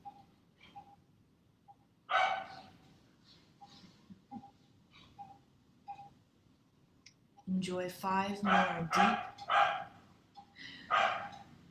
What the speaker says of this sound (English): the dogs in the neighborhood also start their day